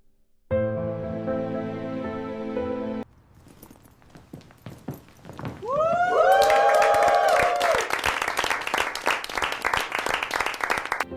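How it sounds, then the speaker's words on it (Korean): A crowd breaks into dense, sustained applause with a few raised voices, after a sustained musical chord and a quieter gap. "화려한 박수 소리 뒤에서"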